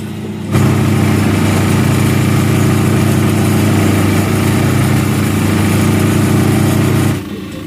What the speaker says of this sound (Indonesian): enceng gondok yang dikumpulkan kemudian dimasukkan ke mesin pencacah